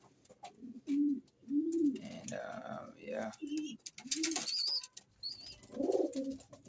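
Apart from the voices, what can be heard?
breeding birds cooing in an aviary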